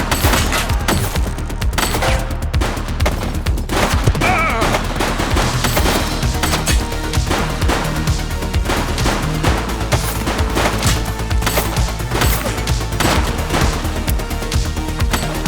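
Rapid gunfire bursts from the 1980s police game The Precinct on PC, dense and loud, rattling almost without pause across the whole stretch with heavy booming impacts mixed in.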